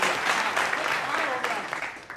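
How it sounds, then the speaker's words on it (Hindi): Warm applause from an audience at a comedic poetry gathering, a dense wash of clapping with a voice or two mixed in underneath. "जोरदार तालियां भाई"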